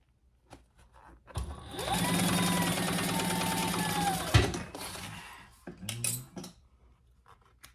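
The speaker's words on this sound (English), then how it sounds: "we're going to sew down the side, and I am going to do a 1/4 inch seam" A sewing machine stitches a quarter-inch seam down the side of a leather pouch, running in a steady whirring burst for about three seconds, then stopping with a few clunks and handling noises up close.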